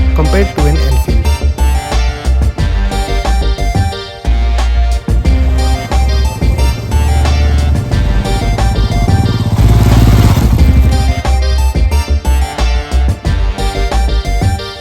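A Hero XPulse motorcycle rides a rough, rocky road in Arunachal Pradesh, its engine drone loud and continuous but largely buried under dense, loud music throughout.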